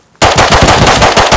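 Rapid automatic gunfire in the video game Rust, a loud, close burst of evenly spaced shots starting abruptly after a brief silence.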